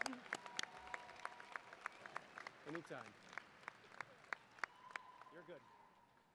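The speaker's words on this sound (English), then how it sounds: "And for us, we get to clap for you" Sparse, distinct claps from a small audience at a high school graduation ceremony, individual hand claps scattered at an uneven rhythm, fairly quiet, with brief speech in between.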